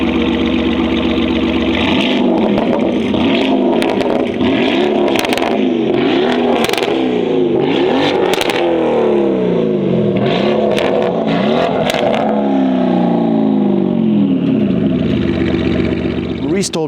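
Novitec-tuned Lamborghini Urus SE V8 revving close by, with a loud, deep, throaty rumble rising and falling in repeated blips over a steady idle, while people talk over it.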